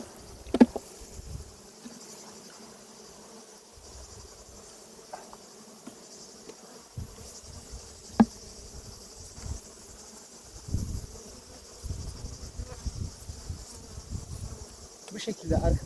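Honey bees hum during a honey harvest, a faint steady buzz with scattered brief louder passes and rustling handling noises nearby.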